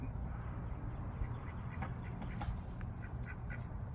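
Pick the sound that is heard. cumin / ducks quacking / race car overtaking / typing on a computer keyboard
ducks quacking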